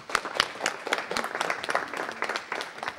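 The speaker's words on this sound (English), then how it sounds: "Let's give them a round of applause." At a city council meeting, the audience gives a round of applause for a family, a moderate patter of clapping hands in a room that continues evenly without voices.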